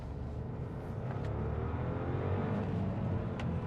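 A 2018 Audi A3 1.0 TFSI S Line with a 1-litre three-cylinder engine accelerates along a rural road, giving a steady, broadband engine and road roar from inside the car.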